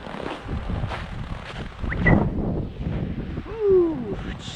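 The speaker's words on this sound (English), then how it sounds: "Ooh, it's windy over here." Gusty wind buffeting the microphone outdoors, rumbling in waves, with a brief whining sound near the end.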